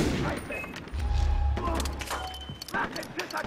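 A deep, rumbling grenade explosion in the video game Far Cry 3 swells for about a second amid scattered game gunfire and clatter, aboard a ship.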